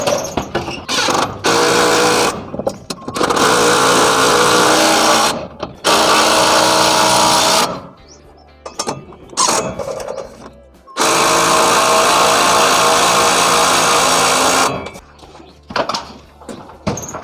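A DeWalt DCH072 cordless rotary hammer drill bores into concrete in several loud bursts, with short pauses between them and a longer sustained run near the end.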